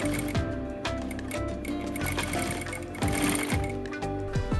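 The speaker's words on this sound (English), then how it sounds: "I am proving my skills here on the sewing machine." A sewing machine stitches an outfit in rapid, even mechanical bursts, with short pauses between runs, close up and steady, with no talk.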